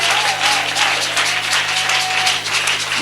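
A church congregation applauds and cheers in praise, a dense sustained wash of clapping with a steady hum and a faint sung or called voice running through it.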